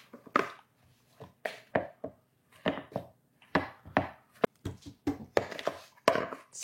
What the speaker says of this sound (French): Là, je vais pétrir ma pâte un peu comme ça.